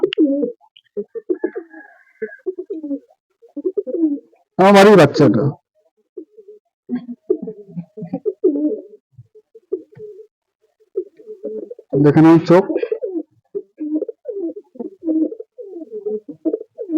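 Giribaz and Madras pigeons coo repeatedly in soft, low, throaty bursts close by, while a voice speaks loudly over them twice.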